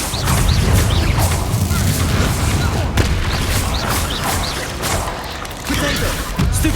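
In the video game Hogwarts Legacy, an Incendio fire spell goes off amid loud, continuous combat noise, with booming impacts and crackling bursts layered over a dense, steady background, a sharp hit landing near the middle.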